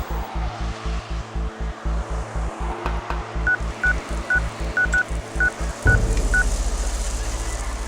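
Touch-tone public telephone being dialed beside a running public sprinkler: a string of short, evenly spaced keypad beeps over a rhythmic pulsing spray, ending in a louder continuous hiss of water.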